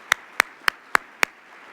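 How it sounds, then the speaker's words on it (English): Five sharp, evenly spaced hand claps ring out close and distinct at a city council event honoring city manager Pat West. "Let's give him a round of applause."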